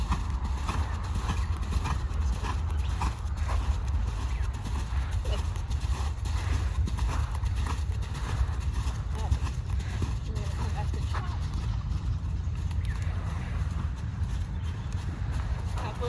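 Horse cantering in a dressage training session, a steady rolling rhythm of hoofbeats on the arena footing running throughout, with a rider's voice talking over it.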